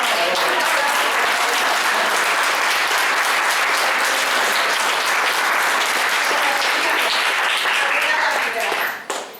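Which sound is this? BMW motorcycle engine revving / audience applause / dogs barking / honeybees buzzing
audience applause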